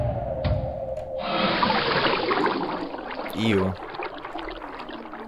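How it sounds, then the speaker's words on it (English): Water drains from a chamber in a horror video game, a steady broadband rushing and gurgling that swells after a second and runs on, with a brief voice at the start and another tone near the middle. "Drain water and remove diving gear?"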